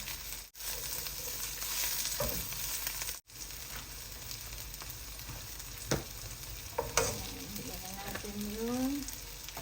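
Onions and garlic fry in a pan for ginataang crab, giving a steady loud sizzle with occasional spatula scrapes and clinks against the pan.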